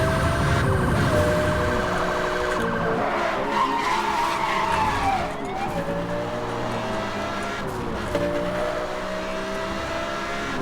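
Car in Need for Speed: Hot Pursuit (2010) accelerating hard, loud engine whine with tire skids and a siren wailing alongside, continuous game audio without talk.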